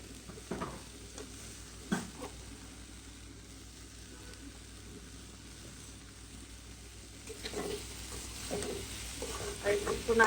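Broccoli, potato, carrot and tomato frying in a pan, a faint low sizzle running under occasional scrapes and clinks of stirring, growing a little busier toward the end.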